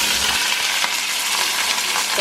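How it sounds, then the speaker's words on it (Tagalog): Fish frying in a pan in a home kitchen, a steady dense sizzle and crackle filling the whole stretch, close and loud with no talk over it. "kanin ko muna siya, piprituin ko muna siya bago ko sabawan"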